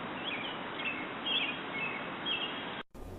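A robin sings in clear, repeated phrases against steady outdoor hiss in a temperate forest, moderately distant, cutting off abruptly near the end.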